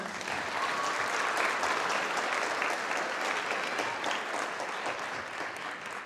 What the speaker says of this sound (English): just another round of applause for these awesome kids